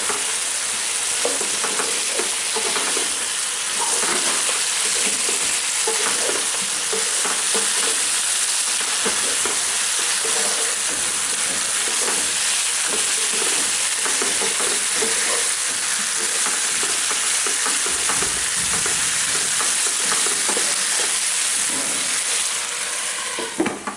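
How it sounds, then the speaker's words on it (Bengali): Local free-range chicken sizzles and fries in a pan while being stirred, a loud, continuous hiss of hot oil with scraping stir sounds and small bursts throughout, close up and without talk. "এখন একবার নাড়া দেবো আমি"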